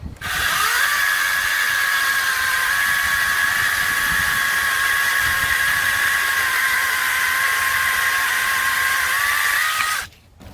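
A KM Grand KS08 one-handed battery chainsaw cuts through wood with a loud, close, high motor whine held steady for about ten seconds before it winds down at the end.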